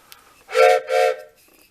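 A toy or collectible train whistle blown indoors in a hobby train room, two sustained breathy hoots in quick succession, close and fairly loud, with faint background noise between them.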